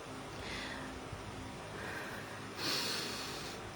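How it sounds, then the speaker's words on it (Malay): A long, deep breath is drawn in audibly through the nose and let out with a soft hiss, repeated a couple of times at close range, taken before a Quran recitation. "Okey, jom tarik nafas panjang-panjang."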